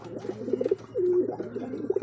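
Soft, repeated cooing of young pigeons, several low throaty coos in a steady rolling rhythm, close by with no talking.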